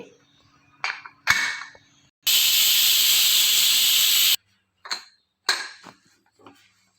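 A pressure cooker cooking mutton gravy lets out a loud, steady whistle-hiss of steam lasting about two seconds, framed by brief clicks and short bursts of escaping steam before and after.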